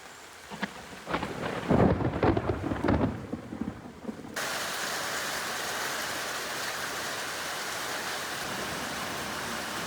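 A summer storm rumbles with rolling thunder over the first few seconds, then steady heavy rain pours down on surfaces, a dense continuous hiss close by with no voices.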